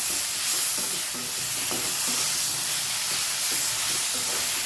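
Schezwan chutney being stirred into noodles in a hot pan, a loud steamy hiss with sizzling and repeated scraping stir strokes, close and continuous with no talk.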